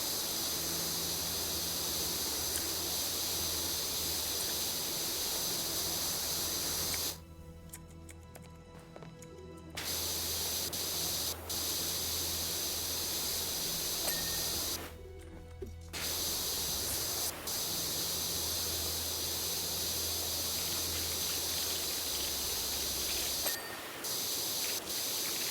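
Power washer in PowerWash Simulator sprays water in a steady loud hiss, cut off by two brief pauses, with a low hum underneath and no talk.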